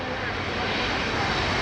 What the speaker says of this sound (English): as the 380 comes in to land